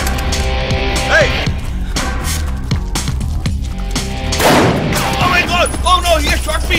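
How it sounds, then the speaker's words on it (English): Gunshots in a dubbed action movie ring out as several loud, sharp cracks in quick succession amid shouting voices and dramatic background sound. "Oh no, he has shot me!"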